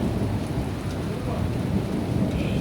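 Thunder rumbles through a lightning storm with steady rain, a continuous low roll that stays loud from start to end with no voices.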